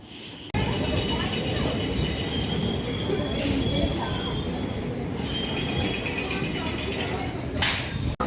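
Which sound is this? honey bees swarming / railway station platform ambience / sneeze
railway station platform ambience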